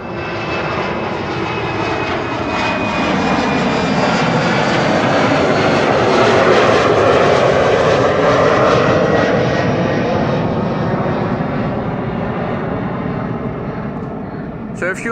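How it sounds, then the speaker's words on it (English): KLM flight 1055 to Norwich, a regional hopper, departing runway 24 at Amsterdam Schiphol, a loud jet roar that swells and peaks mid-way, with a falling tonal whine as it passes, while someone talks over it. "This is KLM flight 1055 to Norwich"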